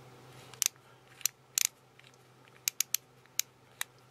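Ratchet of a thread-cutting tap wrench from a metalworking thread-cutting set, sharp isolated clicks, a few close together then several spaced, crisp and close against quiet background.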